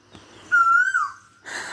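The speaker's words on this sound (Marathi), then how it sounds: "कोकिळ कोकिळ आरडत होता" An Asian koel calls near a home, a clear drawn-out whistled note that slides downward, followed shortly by a second harsher burst, loud and close against a quiet background.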